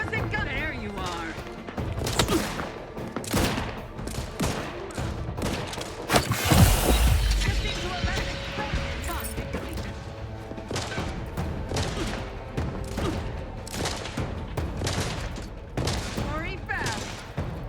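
Gunfire in The Outer Worlds 2 during combat: repeated bursts of shots and impacts, with a heavy blast near the middle, running steadily under a man's speech.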